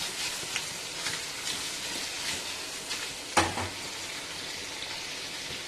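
Sliced potatoes fry in a pan on a lowered gas flame, a steady soft sizzle broken by scraping stirs and one sharper clatter as the slices are tossed.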